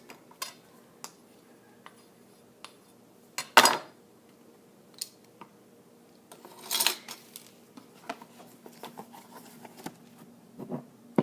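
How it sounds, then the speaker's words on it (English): Tablespoon dipping into and leveling off dry brownie ingredients such as cocoa powder for a mug brownie, a few faint scrapes and clinks of metal against containers, close and quiet. "So I'm going to dip and level off my 1 tablespoon and my 2nd tablespoon."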